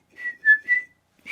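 A person whistles a short, high melody, three sustained notes with brief gaps, clear and close with no talking, ending as a fourth note begins.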